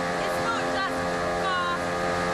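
A boat engine drones steadily and loudly up close, with a continuous hum and wind-like noise and a few brief whistling tones over it.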